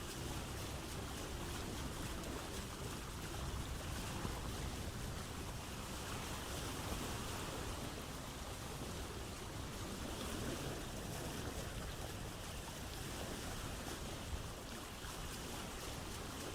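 Steady broadband wash of waves and wind as a boat sails through open water at night in the Vintage Story survival game, a continuous, even rush with no talk.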